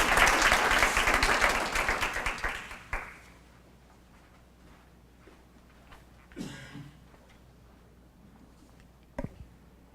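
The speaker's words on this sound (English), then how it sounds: "So if we could just give these students a round of applause." An audience applauding students at a college event, a dense burst of clapping for about three seconds that quickly fades, followed by quiet room noise and a few faint bumps.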